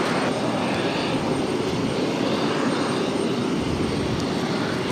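An airliner takes off from runway 22 Right at Boston Logan, a steady, broad engine roar heard from a distance that holds its loudness throughout with no voices.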